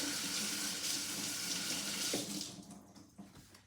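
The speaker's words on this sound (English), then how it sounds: "let me rinse my brush here" A paintbrush is rinsed under a running tap, with a steady rush of water into the sink that stops after a couple of seconds, leaving a few faint drips and clatters.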